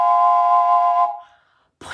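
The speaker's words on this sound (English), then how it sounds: "Oh, it's a whistle. Do you think I need to blow it?" A single loud, steady whistle blast lasting about a second, then cutting off into silence before a brief noise at the end.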